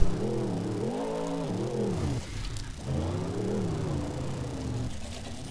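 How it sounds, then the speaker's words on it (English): A pet cat meows in a long, drawn-out, wavering call indoors, close and fairly loud, followed by a second similar meow after a brief pause, with no talking. "she just meowed at me"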